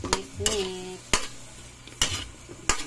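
Lomi with soy sauce being stirred in a pan, a low sizzle under four or five distinct clacks and scrapes of a utensil against the pan, close by and without speech.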